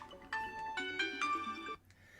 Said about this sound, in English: We've got a phone call and everything.